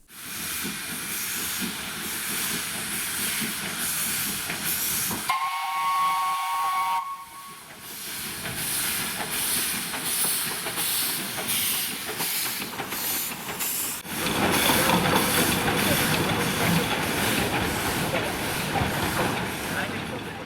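A steam locomotive on a children's railway at a station hisses steadily and loudly, broken by a short whistle blast; the hiss surges louder near the end amid faint background voices.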